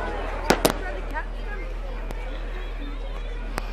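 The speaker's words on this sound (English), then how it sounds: "You can actually see the fireworks here though, can't you?" Fireworks burst in the distance, two sharp bangs close together followed by a few fainter isolated pops, over a low steady hum and background crowd chatter.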